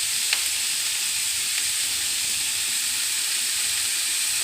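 Green amaranth leaves sautéing with garlic, green chili and onion in hot oil: a steady, bright hiss of frying, fairly loud and even, with a couple of faint taps from the utensil and no speech.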